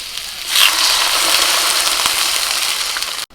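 Water is added to lightly frying radish and potato in a pan, setting off a sudden loud sizzle that hisses steadily for a few seconds before stopping abruptly.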